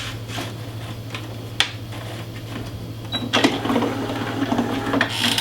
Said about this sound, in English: We're using an ordinary inkjet domestic printer